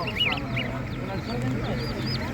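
Ducklings and goslings at an animal market give a flurry of high peeps and cheeps, near and continuous over a low background hum.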